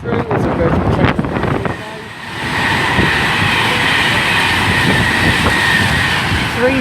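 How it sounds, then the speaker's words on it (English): A Virgin Pendolino class 390 electric train passes through Milton Keynes Central station, a loud, steady roar of rolling wheels with wind buffeting that fills the whole stretch after a brief dip. "Passing through is a Virgin train"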